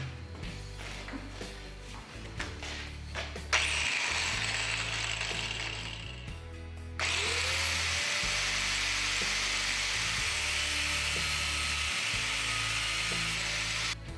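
An angle grinder with a cutoff disc bites into steel during a blacksmith's wrench build, giving a steady high whine with a low rhythmic hum underneath. It rises into a louder, harsher cutting tone partway through and holds there to the end.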